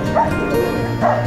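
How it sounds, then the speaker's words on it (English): Dog barking and yipping close by in short, loud bursts at an animal shelter. "you get a healthy dog."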